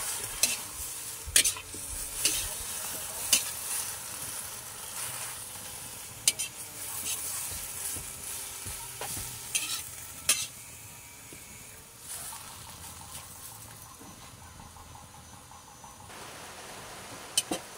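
Water spinach adobo (adobong kangkong) sizzles and fries in a pan while being stirred, with repeated scraping and clinking strokes over steady frying hiss in a rural home kitchen.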